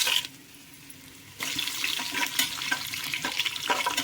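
Whole spices frying in oil in a pressure cooker for vegetable biryani, a faint hiss that turns into a brighter sizzle with light stirring clicks, close and steady without speech.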